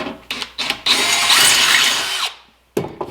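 A power drill with a 13/64 bit starts with a few short bursts, then whines steadily for over a second as it bores, before winding down and restarting briefly.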